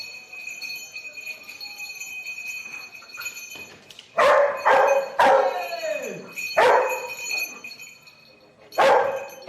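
A dog barks in loud, sharp bursts, several close barks in clusters after a quieter stretch, with some yips and a faint voice in the background.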